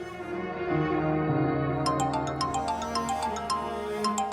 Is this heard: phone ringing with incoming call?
yes